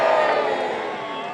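A medieval festival crowd cheers for the castle side, a brief swell of shouting and whooping voices that fades slightly.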